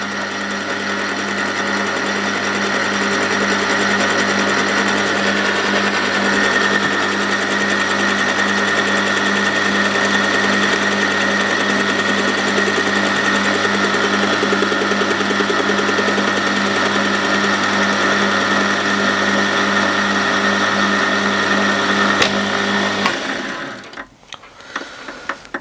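A metal workpiece, a casting for a three-stage reduction transmission, being cut on a machine tool: a steady, loud, continuous mechanical drone with a hum, running unbroken for over twenty seconds before the machine stops near the end.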